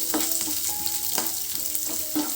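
Sliced onions fry lightly in oil in a pan, a soft continuous sizzle with a few faint scrapes of stirring, close and steady with no talk.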